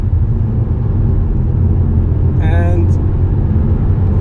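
A 2024 Skoda Kamiq with 115 horsepower slows and downshifts, giving a loud, steady cabin rumble of engine and road noise. A voice is heard briefly over it.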